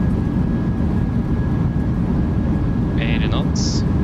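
Thrust reversers on a PMDG Boeing 737-800 in Microsoft Flight Simulator 2024 during landing rollout at Oslo, a loud continuous broadband engine roar with brief cockpit callout tones.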